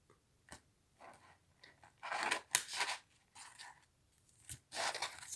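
A deck of tarot cards being cut and shuffled by hand, giving a series of soft papery riffles, slides and scrapes in uneven bursts, close and fairly quiet, with no talking.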